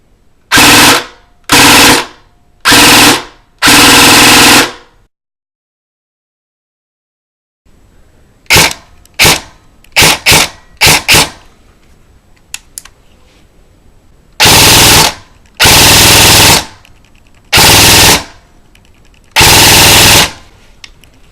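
An airsoft gun fitted with a MOSFET fires loud, close bursts of rapid full-auto shots, several long strings in a row, then a stretch of quick short bursts and single shots, then more sustained bursts, with no talking.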